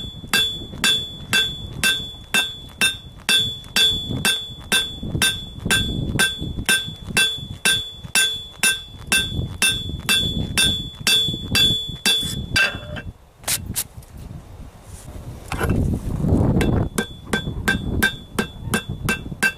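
Steel is hand-forged with a hammer to flatten a trowel blade, ringing in a steady rhythm of sharp, close metallic blows, with a short pause and a few scattered strikes near the end.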